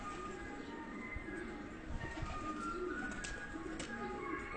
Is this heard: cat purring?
no